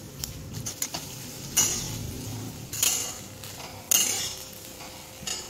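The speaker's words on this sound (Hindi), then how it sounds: "मंजी को बारंबार मिक्स करबा" A utensil mixes fried fish roe in a pan, with repeated scraping strokes and metallic clinks every second or so over a low sizzle, heard up close.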